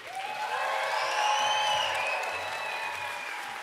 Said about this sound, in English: So big round of applause to our elementary.